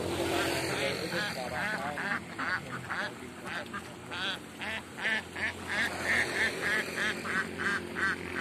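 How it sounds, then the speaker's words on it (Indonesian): Pemalang ducks in a rice field, a flock quacking loudly and repeatedly up close in overlapping bursts, with a little talk mixed in. "Ini bebek Pemalangan ya."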